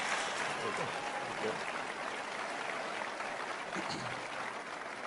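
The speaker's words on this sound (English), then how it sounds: "Let's have one more great big round of applause for our governors" A large CPAC 2017 crowd gives a sustained round of applause for Republican governors, an even, continuous roar of clapping that sounds somewhat distant and steady throughout.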